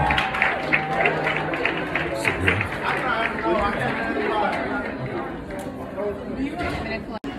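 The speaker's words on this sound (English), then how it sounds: "They're clapping." Audience applause at a singing audition for The Voice, scattered claps and cheers over busy crowd chatter and murmuring voices, fairly close and lively before fading slightly toward the end.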